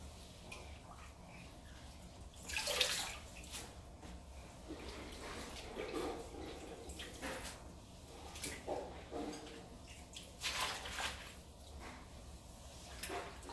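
Water runs and splashes into a double kitchen sink as collard greens are rinsed and washed, a steady soft wash with louder sloshing bursts and no talk.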